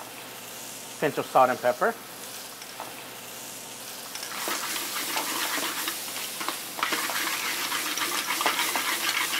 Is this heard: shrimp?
yes